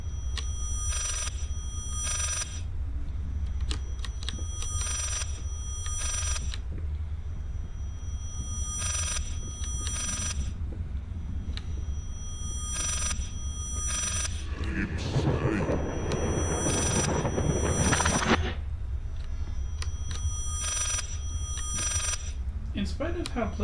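An old telephone rings insistently in the horror video game Layers of Fear, repeating in bright, regular bursts over a low, rumbling ambient drone, with a louder noisy swell partway through.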